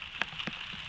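Heavy rain pouring down, a dense hiss with a few sharper drops spattering on a surface, brief and steady.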